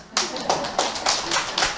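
Audience clapping at a business seminar, a few distinct hand claps in a loose rhythm, moderately close and fairly loud, with a faint voice underneath.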